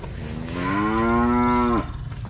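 A Charolais cow gives a single loud, drawn-out moo close by, rising slightly and then cutting off, with quiet barnyard background around it.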